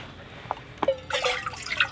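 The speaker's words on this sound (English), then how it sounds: "I know, this lets the air breathe so that this will pour smoother." Water glugs and splashes as it pours from a vented water container at an overland camp beside a 4Runner, with a few faint drips followed by a steady, soft pour.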